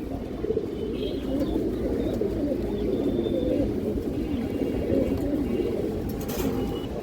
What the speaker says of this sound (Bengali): বড় সাইজের একটা চায়না খাকি মাদি কবুতর